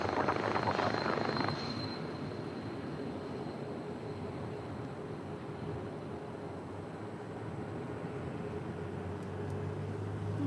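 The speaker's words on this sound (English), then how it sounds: "777 freighter" A Boeing 777 freighter jet landing at LAX, its engine roar a steady, broad distant rumble with a louder burst at the start, continuing without speech throughout.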